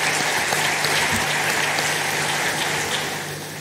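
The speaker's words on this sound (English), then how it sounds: "Let us give them a round of applause," An audience at an African conference closing session applauds, with a broad, even wash of many hands clapping that fades slightly toward the end.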